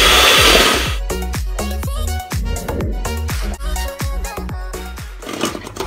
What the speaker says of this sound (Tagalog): So, gagamitan po natin siya ng electric mixer.